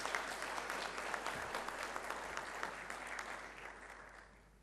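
An audience applauds at an international business forum during a speech by Shahbaz Sharif, with dense, steady clapping that tapers off toward the end.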